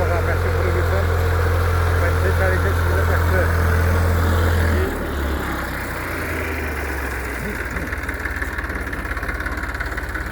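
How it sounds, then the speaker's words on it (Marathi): A Massey Ferguson tractor runs in an organic South African vineyard with eleven-foot rows, its engine giving a loud, steady low drone that drops in pitch and settles about halfway through, with a voice heard over it. "मॅशी फर्ग्युशन ट्रॅक्टर आहे"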